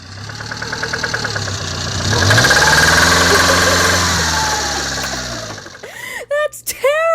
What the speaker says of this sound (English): I gotta hear what that engine sounds like.